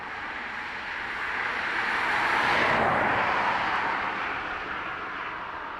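A jet airliner taking off at Dublin Airport, a loud broad engine roar that swells to a peak midway and then slowly fades, heard alone without talk.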